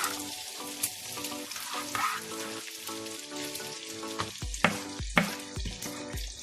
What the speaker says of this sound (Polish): Wszystko razem smażyć.